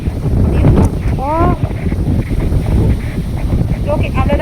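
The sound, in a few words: strong wind blowing on a hilltop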